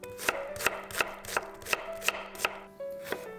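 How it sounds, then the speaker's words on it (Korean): Regular knife strokes on a cutting board as a potato is cut into pieces for Korean sujebi soup, about eight crisp chops spaced evenly and close by, with no talking. "감자 1개 먹기 좋게 자르고"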